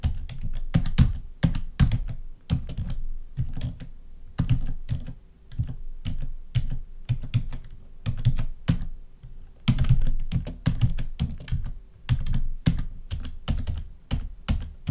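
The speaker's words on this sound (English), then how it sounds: "Oh, this keyboard is ridiculous." Fingers type quickly on a computer keyboard close up, producing continuous clattering keystrokes in uneven bursts, with brief pauses between runs and no speech.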